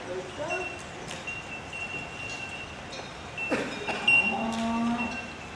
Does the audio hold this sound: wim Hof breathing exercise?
no